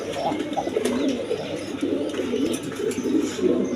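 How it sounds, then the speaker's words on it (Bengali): Rajgolla pigeons kept with two chicks coo in low, soft, repeating murmurs, close by and continuous over faint background noise. "দুইটা বাচ্চা সহ রাজগোল্লা কবুতর"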